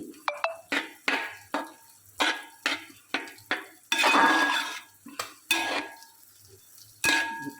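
A metal spoon scrapes and knocks against a pot as vegetables and grated coconut are stirred for avial, a series of sharp clanks and scrapes at an uneven rhythm, close and fairly loud.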